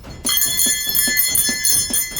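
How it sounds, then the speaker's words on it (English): Sleigh bells jingle steadily and brightly in a fast regular shake, loud and close, with no talk over them. "keep an ear out to see if you can hear the bells of Santa's sleigh"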